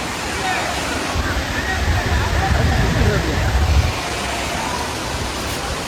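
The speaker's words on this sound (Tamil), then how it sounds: "பெரிய அருவி." Palaruvi waterfall in a Kerala forest, a steady broadband roar of falling water, swelling a little in the middle, with faint crowd murmur behind it.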